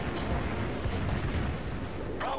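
Naval gunfire in World of Warships, a dense rumbling barrage of booms and bursts filling the whole stretch, steady and loud, with a brief faint voice near the end.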